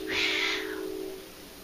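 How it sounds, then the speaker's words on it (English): A cat lets out a loud, drawn-out yowl during a brief scuffle out of view, a single rising cry lasting about half a second before fading, with a steady hum running underneath. "We had a little cat fight off stage there."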